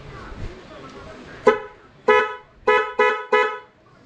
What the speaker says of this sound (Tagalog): Which is yung G-Star Horn na version 1 by Secret Shop.